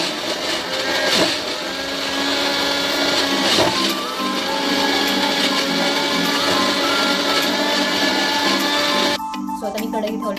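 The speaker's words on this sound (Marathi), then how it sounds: "मग मी कांदा टोमॅटो आलं लसूणचं पेस्ट बनवते" A kitchen blender grinds onion, tomato, ginger and garlic into a paste, a loud, steady motor whir close by that holds for about nine seconds before cutting out, with no speech.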